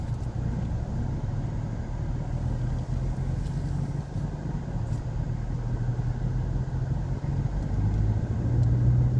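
A car drives through the streets of Medan, Indonesia, with a steady low engine rumble and road noise that hold at an even level from start to finish, with no talk.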